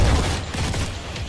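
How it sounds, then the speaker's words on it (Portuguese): Rapid burst of automatic gunfire in the mobile shooter Modern Combat 4: Zero Hour, a dense, loud rattle of shots carrying on steadily for over a second with booming low end. "Da onde tá vindo essa rajada?"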